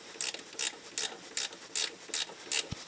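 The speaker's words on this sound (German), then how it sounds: "Sechskant hat den Vorteil, dass wir jetzt mit dem Ratschenringschlüssel drauf kommen." Ratchet ring spanner clicking as it tightens a hex bolt on a Porsche 944 Turbo, with seven or eight quick bursts of ratcheting at a steady rhythm, each followed by a short pause, close and fairly quiet, with no talking.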